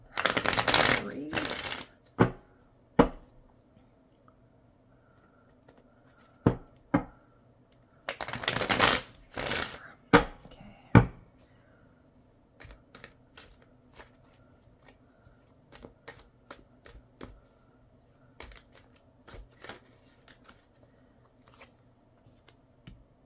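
Tarot cards are shuffled in two quick riffling bursts, followed by scattered light taps and flicks as cards are laid down, close and crisp in a quiet room.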